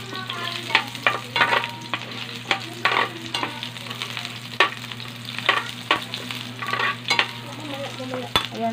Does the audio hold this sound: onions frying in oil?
yes